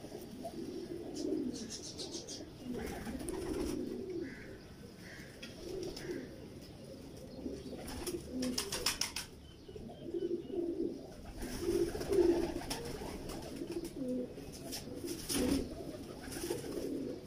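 Pigeons coo repeatedly close by, soft low throaty calls rising and falling over a steady background murmur, with occasional brief rustles.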